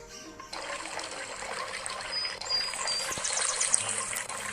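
A hand water pump in a video game is pressed, and continuous gushing, splashing water starts after a brief quiet moment. The flow stays fairly even and loud for about four seconds.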